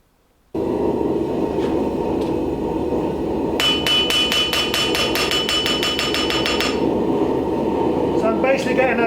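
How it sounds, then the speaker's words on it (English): A hammer forges and then planishes a folding knife blade made from scrap, with a rapid run of sharp, ringing metallic strikes in the middle of the clip over a steady, loud background roar of shop noise. "Basically getting a few seconds of forging, and then the rest is just planishing, making it nice and smooth."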